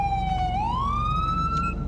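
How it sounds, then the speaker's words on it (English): A police car siren in the GTA V LSPDFR mod wails loudly and continuously, its pitch dipping then sweeping back up in one smooth rise over a low engine idle. "If we have our siren on, and I get out, now I'm not on duty, so my automatic siren control will not turn the siren off."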